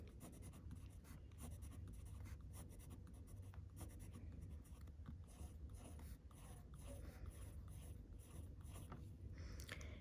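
A pencil scratches continuously across paper while drawing rows and columns of circles for a math array, with quick repeated strokes close up and no voices.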